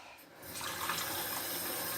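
A cup of water pours steadily from a kitchen tap, a broad rushing splash that swells and holds for chicken bouillon being mixed for soup.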